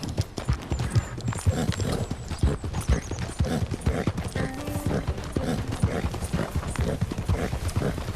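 Horse hooves clip-clop steadily in Red Dead Redemption 2 as a rider travels on a newly acquired horse, a continuous close rhythmic patter layered with game ambience and occasional mechanical clinks.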